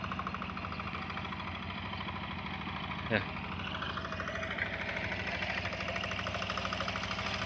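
A tractor engine runs steadily in a rice field in a rural village, a continuous close mechanical drone with a pulsing idle rhythm. A voice speaks briefly over it.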